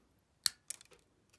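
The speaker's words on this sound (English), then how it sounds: "we're going to take our wire cutters, or if you don't have wire cutters, scissors, and just going through and cutting off some of these excess legs" Wire cutters snipping excess component legs off a circuit board for a Geekcreit 3V FM radio kit: one sharp, close snip followed by a few quicker, fainter clicks, isolated in quiet.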